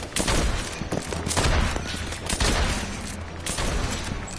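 Dense, sustained volley of video game gunfire, a continuous crackling barrage of overlapping shots that stays loud throughout with brief surges.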